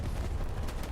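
A rocket slams in and explodes in the World War II shooter Hell Let Loose, a loud, dense, brief blast of broadband rumble filling the whole short moment.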